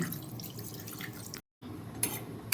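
Water pours and splashes steadily into a metal pressure cooker, faint and close, with a brief moment of silence partway through.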